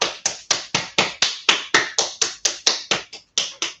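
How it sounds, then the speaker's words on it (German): A hand claps against the sole of the foot during a yoga session, about fourteen sharp, close slaps in a steady quick rhythm with one brief pause near the end, alone without talk. "klatscht einmal die Fußsohle ab"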